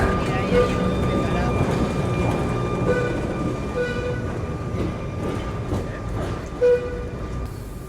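A tram departs a station in Soller, Mallorca, rolling away with a low rumbling drone and faint clacking, steady and fairly close, with a brief louder knock near the end and some murmured voices.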